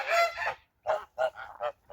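Geese in a farmyard flock honk in a few loud, close bursts: one long call, then three or four shorter honks with brief pauses between.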